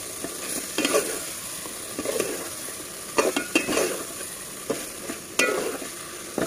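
Pigeon meat sautéing in hot spiced oil, a steady sizzle broken by repeated scraping strokes of a spoon stirring the pan, close up with no talking.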